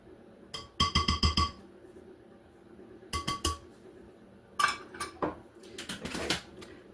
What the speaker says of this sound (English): I like to cut my butter into my flours with a fork